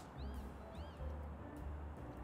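A cat meowing in the video game Little Kitty Big City, two short rising-falling meows over a dense bed of game background noise, with no talking.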